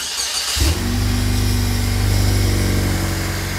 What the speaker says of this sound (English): I'm going to fire up the car and let it start to warm and draw a vacuum